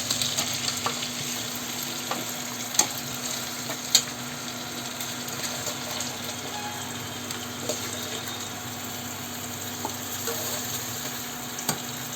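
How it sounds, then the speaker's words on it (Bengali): Chicken pieces sizzle steadily in a spiced masala as they are fried and stirred for kassa, a continuous soft frying hiss with occasional sharp ticks and scrapes of the spatula, no voices. "এবার মাংসটা দিয়ে কিছুক্ষণ কষাবো।"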